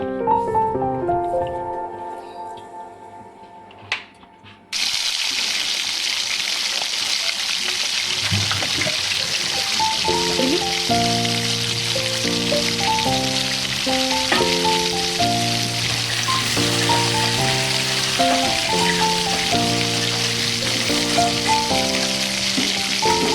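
After a brief musical opening, a loud, steady frying sizzle of potatoes in hot oil in a wok runs throughout, with a melodic music track playing over it.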